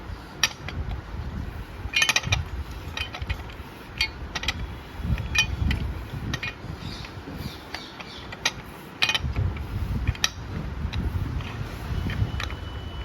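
Someone turns an oiled Royal Enfield Classic 350 clutch assembly by hand, producing close metallic ratcheting clicks and gear rattles in irregular bursts with brief pauses between them.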